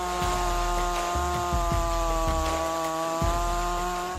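A Stihl MS 500i chainsaw fitted with a 36-inch bar and Stihl chain runs at steady high revs while cutting logs, its engine whine holding constant with brief bogging surges as the chain bites into the wood.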